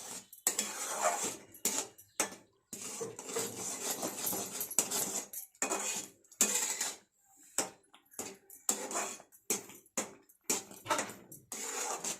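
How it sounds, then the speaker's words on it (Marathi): Quick, vigorous stirring of semolina in a metal pan, with rapid scraping and clinking strokes in bursts separated by brief pauses. "सगळा रवा टाकायचा, फटाफट हलवायचा."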